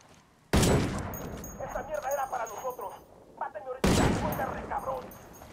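Two sharp, loud rifle shots ring out a few seconds apart in the Into the Wildlands video game, each leaving a rolling echo, while someone talks in between.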